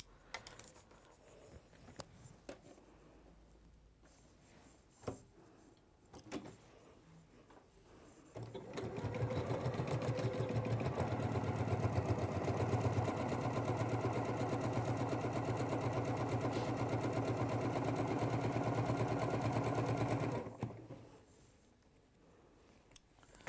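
A sewing machine stitches a zip and lining, running steadily and loudly for about twelve seconds after some quiet handling of fabric, then stopping.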